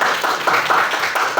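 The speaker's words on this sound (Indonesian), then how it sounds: "Sekali lagi kita tepuk tangan kepada Pak Sigi." Audience applauding Pak Sigi at a school positive-culture dissemination session, a steady, fairly close patter of hands with rhythmic surges.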